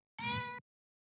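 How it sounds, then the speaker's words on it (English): A pet cat named Shadow gives a single short, clear meow, close by and alone against silence. "That's my cat, Shadow."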